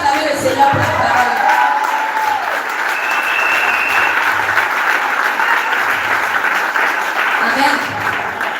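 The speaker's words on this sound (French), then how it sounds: "est-ce qu'on va acclamer le Seigneur pour la parole?" A church congregation breaks into sustained applause during a women's leadership Bible teaching session, the clapping steady and roomy with scattered cheers, continuing for several seconds at an even, full level.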